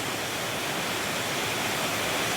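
Heavy rain pouring down in a steady dense roar, loud and continuous with no breaks.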